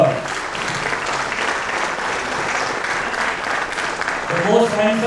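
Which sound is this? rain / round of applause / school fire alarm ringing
round of applause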